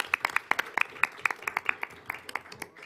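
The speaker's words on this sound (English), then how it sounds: "Let's give them a round of applause." Scattered, uneven clapping from a small audience at a school board meeting, a few dozen sharp claps in quick succession that thin out toward the end, with faint room noise beneath.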